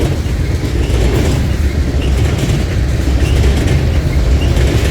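A long freight train with a mid-train DPU locomotive rolls past close by, a loud continuous rumble of wheels and rail noise filling the whole stretch with no break.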